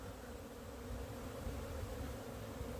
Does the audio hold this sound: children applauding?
no